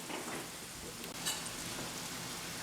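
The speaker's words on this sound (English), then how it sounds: "You want to kind of sear the beef." Beef sears in a hot pan for a beef noodle stir fry, giving a steady, close, even hiss and crackle of sizzling fat that runs without a break and carries no voices.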